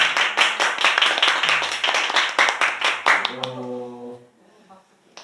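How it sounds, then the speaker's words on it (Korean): A church congregation claps during a Sunday worship service to welcome back a returning member, a dense burst of hand claps with a few voices mixed in, then fading into a quieter tail with a sustained tone near the end. "환영하고 반갑다고 박수 나누겠습니다"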